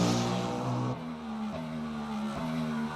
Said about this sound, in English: What an engine sound that is.